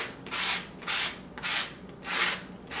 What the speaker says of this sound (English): So I'm just going to use, you know, the old scrape method.